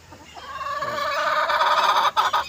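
Backyard breeding-pen chickens cluck in a short, close burst of rapid, rising calls, loud and clear with faint background rustle.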